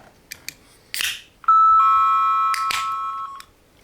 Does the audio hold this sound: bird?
no